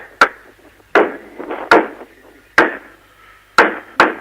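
Sharp, heavy impacts strike at irregular intervals, six blows over a few seconds, each with a gritty crumbling tail like tools breaking into masonry.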